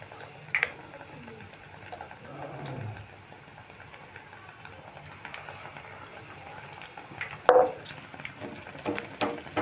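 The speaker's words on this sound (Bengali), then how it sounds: "দেখো দুটো ভাজা হয়ে গেল এবার আমি আবারও ভেজে নিচ্ছি" Soft, steady bubbling of potato chops (Bengali potato fritters made with raw potato) frying in oil, fairly quiet, with a brief clatter of a utensil partway through.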